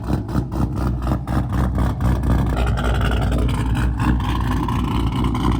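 A truck's engine rumbles loud and close with a deep throbbing idle and repeated pulsing revs that swell and settle across the stretch, with no talk over it.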